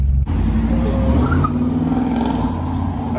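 Infiniti G35 engine running loud and close as the car pulls away on the road, a steady low rumble that rises slightly as it accelerates, with no talking.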